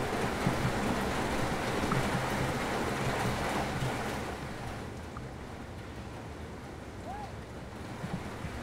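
Rain falls as a broad, steady hiss, louder at first and then easing to a quieter patter, with no clear talking over it.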